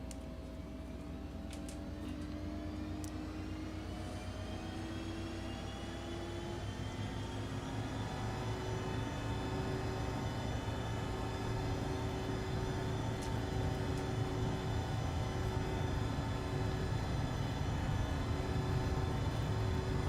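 Simulated ERJ-145XR jet on its takeoff roll in X-Plane 11, a steady engine drone with rising whining tones building gradually over twenty seconds, fairly faint and continuous with no voices.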